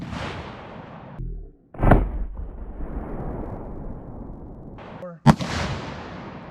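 A Rock Island Armory 12 gauge shotgun fired at point blank range from about three feet, a loud booming blast after a stretch of wind noise, then a second sharp crack near the end over continuing outdoor rumble.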